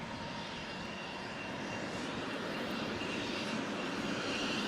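Military jet aircraft engine on a US deployment in Afghanistan, a loud steady broadband roar with no breaks, close and continuous throughout.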